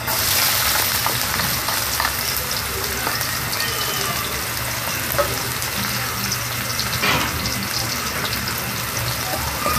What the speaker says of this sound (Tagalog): Tapos lagay po natin yung sibuyas.